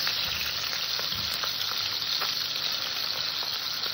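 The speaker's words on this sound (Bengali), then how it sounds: "এইভাবে বাকি মাছটা ভেজে নেব।" Small puti fish frying in hot oil in a pan, a loud, steady sizzle with faint crackles and soft stirring taps throughout, no voices.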